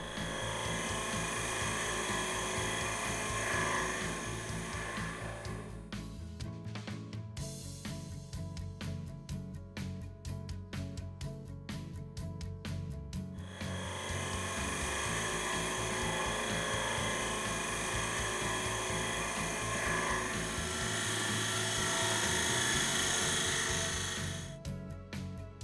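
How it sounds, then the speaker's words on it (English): A TurnMaster round cutter shear-scrapes wood on a lathe, producing a faint, steady whirring hum with a scraping edge. The sound drops out briefly twice before resuming. "The round cutter can also be used in shear scraping mode on a variety of projects for a fine finish."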